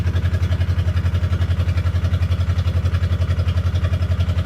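A 30-year-old Kobelco 903LC excavator's unmuffled engine idles close by with a steady, rapid low-pitched clatter and even pulsing exhaust beats, loud and constant throughout.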